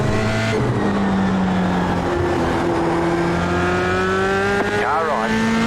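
A Formula 3 car in the iRacing sim racing game at the Okayama circuit drones with a steady, loud engine note that climbs gradually through the gears, and a short rising-and-falling sweep follows near the end.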